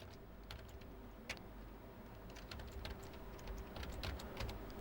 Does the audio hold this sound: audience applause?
no